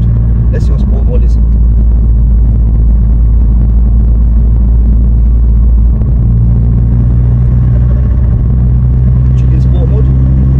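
Interior drone of a stage 2 Vauxhall Astra VXR driven in sport mode, a loud steady low engine and road rumble lasting throughout, with brief faint higher noises at the start and end.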